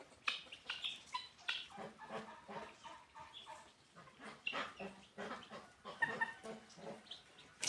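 A flock of guinea fowl chatters and cackles nearby, rapid rhythmic clucking calls overlapping in an outdoor farmyard with no speech.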